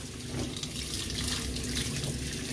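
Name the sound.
running water from a tap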